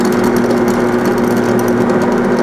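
A steady, loud motorized whine with strong tonal hum as a router drills into a plastic baseplate, continuous throughout with no talking.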